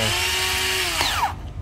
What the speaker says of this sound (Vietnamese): cái này là khoan đây nè